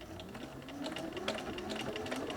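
Steady, close whirring of a sewing machine back stitching a bomber jacket, its needle ticking continuously and evenly with no pauses.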